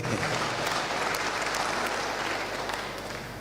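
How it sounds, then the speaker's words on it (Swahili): An audience at a political address by Kalonzo bursts into loud, dense applause that carries on steadily and then slowly tapers. "Humility, tumpigie makofi."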